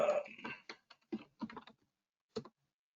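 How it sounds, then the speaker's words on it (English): Sharp computer mouse clicks while a letter is handled in Microsoft Word, a scattering of close, dry taps in quick irregular bursts with a lone click after a short pause. "I'm clicking."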